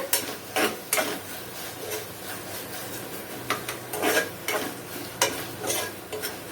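A spoon scrapes and stirs a rice and lentil dish in a pot with soft, irregular scraping strokes and a faint sizzle underneath, close and moderately quiet.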